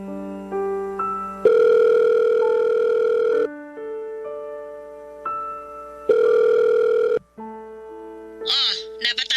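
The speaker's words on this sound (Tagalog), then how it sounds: "Matawagan nga si Mama." Phone dialing and then ringing out on a call: a series of loud, steady electronic tones of varying pitch, some long and some short, ending in a brief warbling burst.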